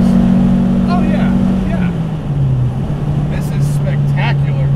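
A modified 1968 Porsche 912 engine drones loudly from inside the car, its steady note dropping as a gear change from third to fourth goes through, then holding lower while people talk over it.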